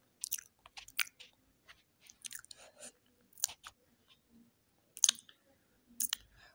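Close, crunchy chewing of raita topped with pomegranate seeds, a series of bites and munches in irregular bursts with brief pauses, no talking.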